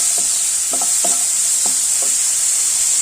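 Raw plantain thoran is stirred in a pan over a constant bright sizzle, with about five distinct spatula scrapes spaced across the first two seconds.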